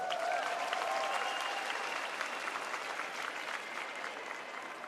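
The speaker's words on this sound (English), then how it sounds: "Let's give them another round of applause." Sustained crowd applause at a Miss Universe preliminary competition as pageant contestants are honored, a dense, steady wash of clapping that holds loud throughout and eases only slightly toward the end.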